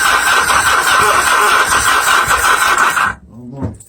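Yamaha XS motorcycle engine cranking with the choke on, a loud steady churning drone for about three seconds that cuts off abruptly, followed by a brief voice.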